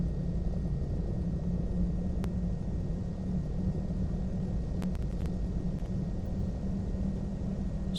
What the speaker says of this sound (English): Just taxiing around.